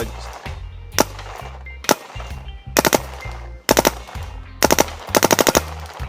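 A Shocker RSX paintball marker firing outdoors, sharp snapping shots in quick strings of three to five, loud and close over a low steady background rumble.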